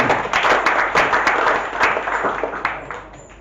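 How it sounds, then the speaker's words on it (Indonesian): Applause for farmers at a field inspection gathering, a crowd clapping loudly and irregularly with sharp individual claps standing out, tapering slightly toward the end. "Tepuk tangan untuk petani"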